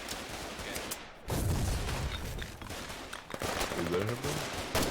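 Gunfire on a Foxhole video game frontline: a dense, continuous wash of overlapping shots and distant blasts, steady and loud throughout with brief dips.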